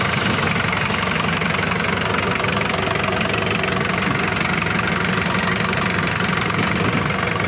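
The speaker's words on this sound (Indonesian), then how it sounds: "Jadi kita nyalain dulu mesinnya." A Daihatsu Taft engine fitted with a turbo setup idles steadily and loudly for the whole stretch, with a rough, knocking rumble and no voices over it.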